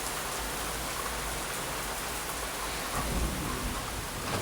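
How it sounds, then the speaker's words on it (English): Steady rain falling outdoors as a constant broadband hiss, close and even throughout, with a low rumble and no voices. "It's raining."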